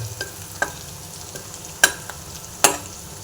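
Garlic frying brown in a pan while a spatula scrapes and knocks against the metal a few times, two strokes sharper than the rest, over a low, steady sizzle.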